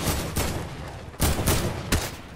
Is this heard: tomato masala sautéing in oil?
no